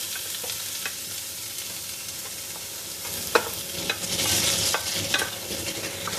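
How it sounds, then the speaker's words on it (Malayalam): Onion, curry leaves and green chili frying in hot oil in a pan, a continuous sizzle broken by sharp stirring knocks and scrapes, close up with no voices. "കറിവേപ്പില, പച്ചമുളക്, ഇതെല്ലാം കൂടെ നന്നായിട്ടൊന്ന് വഴറ്റാം."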